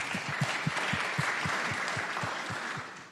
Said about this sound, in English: we appreciate the applause for her and not boos for me